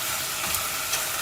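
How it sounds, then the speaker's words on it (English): Lamb and vegetable pieces for a brown stew fry in a pan with a steady, close sizzle and a soft broadband hiss, small crackles rising briefly over the constant frying. "So keep frying for some time."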